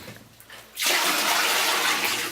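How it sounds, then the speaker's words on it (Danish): A home toilet is flushed with saved bath water poured into it, a sudden loud rush of water starting after a quiet moment and continuing steadily up close. "Så når jeg skal skylle i toilettet, så tager jeg faktisk sådan her."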